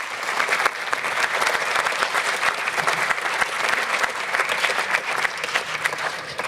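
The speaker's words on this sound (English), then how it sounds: "Can I get one more round of applause for my speakers?" Sustained audience applause, a dense wash of clapping from a large crowd that holds steady throughout.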